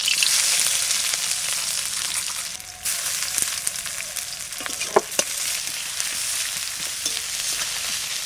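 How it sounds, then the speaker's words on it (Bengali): Onion and mushroom sizzle steadily in a pan, a close, continuous frying hiss with occasional crackles and a brief stir partway through. "এবারে মাশরুমটা ভাজা করব।"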